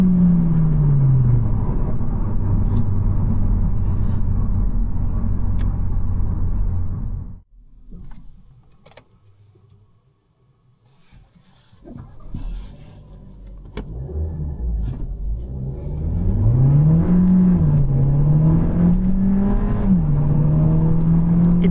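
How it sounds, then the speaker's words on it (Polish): Skoda Fabia 130 Sport accelerating from 0 to 100 km/h, a loud engine rising in pitch through the gears, then a quiet lull, then another hard run climbing through gear changes. "A na koniec sprawdzimy sobie jeszcze sprint od 0 do 100 km na godzinę"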